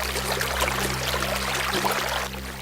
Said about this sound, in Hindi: उसे एक तरफ झरने की आवाज सुनाई देती है